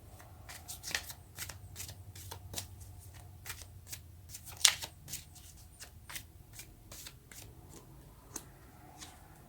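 Tarot cards are shuffled and riffled in a string of quick, crisp snaps and flutters, fairly close and alone in a quiet room, with one sharper burst midway.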